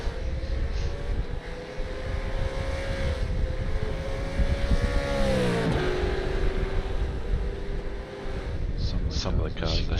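Race cars on a track, several engines droning steadily at close range with a pitch sweep as one passes; a voice talks over the engine noise throughout.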